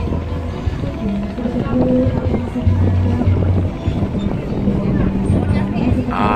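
A large fuel-carrying boat on the Mahakam river in Samarinda rumbles with a steady low engine drone and water and wind noise, heard from nearby with continuous wash and no clear speech.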